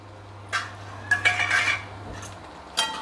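Metal utensil scraping and clinking against a pan while tomatoes and cluster beans are mixed, a few short clattering strokes spread over a few seconds against a low steady hum, with no voices.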